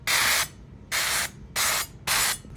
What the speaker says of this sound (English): I'm just gonna spray and see how many I can fill up.